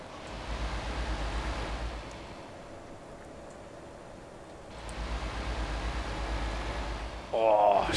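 Ocean waves by the sea in Euro Truck Simulator 2 with a Brazil bus map near Copacabana, Rio de Janeiro: two broad washes of surf swell and recede over a steady low rumble, with a brief clatter at the end.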